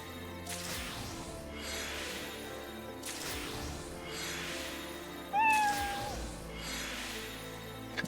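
A cat meows once in the video game Final Fantasy XIV, a short rising cry over a steady game soundscape with repeating swells in the background.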